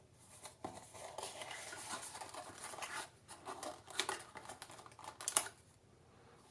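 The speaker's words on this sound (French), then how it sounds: "Allez, maintenant, on va le découvrir ensemble. Déballage." A boxed pulse oximeter is unpacked up close, with a quiet stream of crinkling, tapping and handling noises from packaging, irregular and soft, and no talking.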